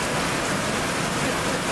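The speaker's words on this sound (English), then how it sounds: "It's raining." Steady, close rain pours down outdoors during a thunderstorm, a dense, even hiss that never lets up.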